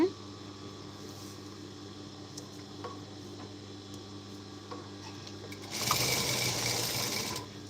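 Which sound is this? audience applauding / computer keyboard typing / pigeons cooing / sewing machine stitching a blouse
sewing machine stitching a blouse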